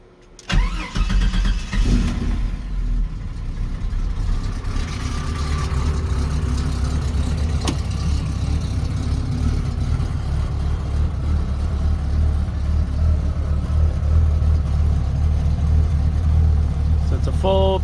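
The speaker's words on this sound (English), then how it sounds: "I'll go ahead and fire this thing up for you guys." A Jeep Comanche engine with a full custom 2 1/4 inch exhaust and high-flow cat cranks and fires up at the start, then settles into a steady, loud, deep rumbling idle that continues throughout.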